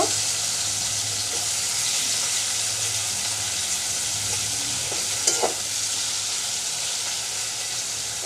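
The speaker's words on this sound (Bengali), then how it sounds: "এর তেলের মধ্যে একটু বাঁশপাতার সুটকিটা একটু ভেজে নিব" Dried bamboo-leaf fish frying in oil in a village kitchen, a steady close sizzle with a few brief stirring clinks partway through.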